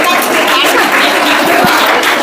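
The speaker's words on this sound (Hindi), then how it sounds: "ताली बजा दो इनके लिए" Quiz audience at an environment-study event bursts into loud, dense applause, many hands clapping continuously with no break.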